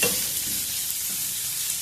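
Onions frying in a pan with turmeric and salt, a steady close sizzle with soft stirring scrapes throughout, no voices.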